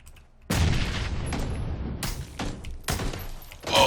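Gunfire in the battle royale game PlayerUnknown's Battlegrounds: a heavy, booming burst of shots kicks in abruptly, followed by further sharp reports at irregular intervals, loud and close.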